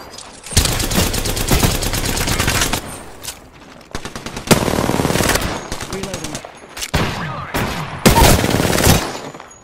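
Bursts of automatic gunfire in the battle royale shooter Apex Legends (Season 3), loud sustained volleys separated by short pauses, with rapid rattling shots and game effects throughout.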